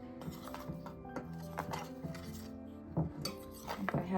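A utensil clinks and scrapes against a bowl while popcorn chicken tofu batter is mixed by hand, giving close, irregular metallic chinks and taps in quick succession with short pauses between.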